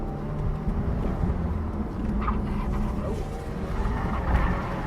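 A 2016 Subaru WRX driven hard on a race track, its engine a steady loud rumble with road and wind noise throughout, rising slightly near the end, with no talking.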